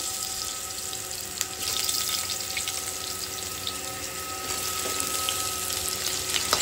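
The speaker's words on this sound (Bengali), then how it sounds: "কড়াইয়ে আমার তেল গরম হয়ে গেছে, এবার এই তেলে আমি আলুটা ভেজে নেব" Potatoes frying in hot oil in a wok, a steady hissing, crackling sizzle that stays loud and close throughout with no voices.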